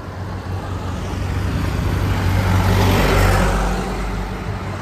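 Road traffic with passing cars on a village road, a steady broad engine and tyre roar that swells as a vehicle draws near around the middle and then eases, with no voices.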